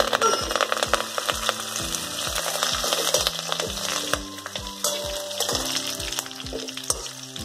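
Loud sizzling and spitting of curry leaves in hot oil, with sharp crackling pops at a brisk irregular rhythm, close up and without talk.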